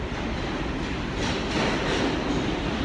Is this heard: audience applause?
no